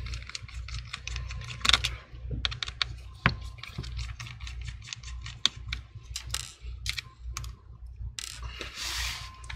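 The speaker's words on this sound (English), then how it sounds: "Remove three screws here on the right side of the hinge." Small Torx T8 screws being backed out of the right side of a MacBook Air hinge, with a steady run of faint, quick clicks and ticks against a low background hum.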